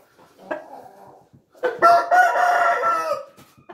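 A rooster crows loudly and close by in one long, drawn-out call, preceded by a brief, fainter call, with no one talking, in Brazil.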